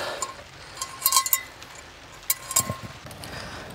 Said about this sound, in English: We've got an old enameled cup.